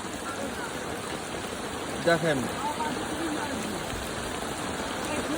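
Heavy rain pouring down steadily during outdoor jute washing, a constant dense hiss throughout, with a brief spoken word from a person partway through.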